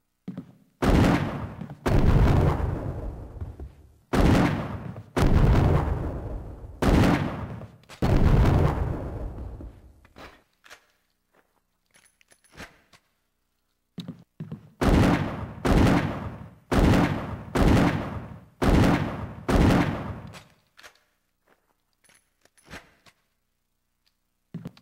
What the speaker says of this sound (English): The gun fires .357 Magnum rounds.